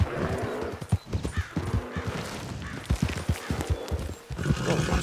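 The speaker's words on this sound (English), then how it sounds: "My horse kept going." Horse hooves gallop in the Red Dead Online video game, rapid, loud, near clip-clop beats over rough ground with game ambience and a brief whinny.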